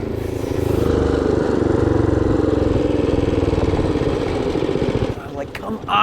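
A motorcycle engine runs steadily and loud up close, then sputters and cuts out unevenly as it runs out of gas, with a couple of rough catches at the end.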